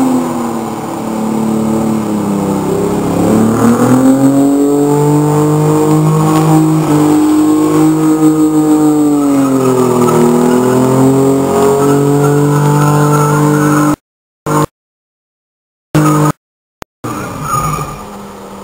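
An Opel Senator 3.0 12V engine revs hard and loud during a water burnout at a motor meet, a sustained high-revving roar with rising and falling pitch, then cutting out briefly near the end before resuming.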